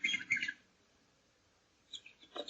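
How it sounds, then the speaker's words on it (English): Birds chirp and twitter outdoors on a sunny morning, a quick burst of bright calls at the start, then a lull and more brief chirps near the end, faint and somewhat distant. "the birds were singing"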